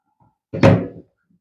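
A single short plastic door on a large stainless steel cat litter box thunks open close by, a brief hollow clatter lasting about half a second, with quiet before and after.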